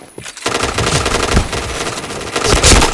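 Rapid automatic gunfire in a first-person shooter video game, a dense sustained burst of loud close shots with a few heavier bangs, no voices.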